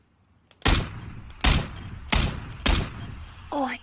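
Rapid bursts of gunfire in the battle royale game PUBG, four loud, heavy volleys at roughly even intervals, each trailing off, with a brief rising electronic tone near the end.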